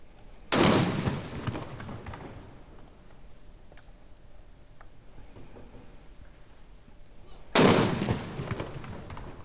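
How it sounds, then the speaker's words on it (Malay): Ceremonial cannon salute of 12 rounds fired by military police in a park in Brunei's capital to welcome Ramadan: two loud, sharp booms about seven seconds apart, each trailing into a long rumbling echo, with faint background noise between. "bulan Ramadan disemarakan dengan 12 edas tembakan meriam di ibu negara petang tadi"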